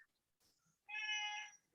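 A cat gives one clear, drawn-out meow in a quiet room, preceded by faint rustling and a brief soft noise.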